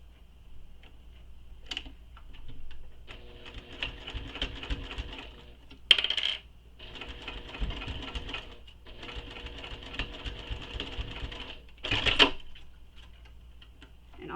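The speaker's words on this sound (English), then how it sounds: "Then we'll stitch across this using the seam allowance given in the pattern." A sewing machine stitches across a zipper tab in three steady runs of mechanical whirring, each a few seconds long, with short pauses and a couple of sharp clicks between them.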